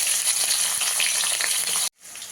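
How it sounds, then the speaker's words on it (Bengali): Panch phoron spices and dried red chillies sizzle loudly in hot oil for a Bengali home-cooked dish, a dense steady crackle with a few pops, then a sudden brief drop before the frying resumes. "পাঁচ ফোড়ন দেবো, দুটো শুকনো লঙ্কা দেবো ফোড়নে, কাঁচা লঙ্কা চেরা দেবো"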